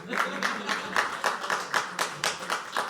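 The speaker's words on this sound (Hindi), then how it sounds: "वाह भाई, तालियां बजाओ" An audience claps at a poetry open mic at The Habitat, giving a steady burst of applause with regular pulses about every quarter second, close and fairly loud, with no talk over it.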